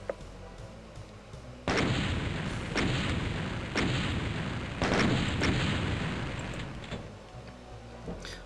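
Gunfire and explosions from the video game DOOM 2 pound continuously, with heavy booms recurring every second or so against a dense rumbling roar and no speech.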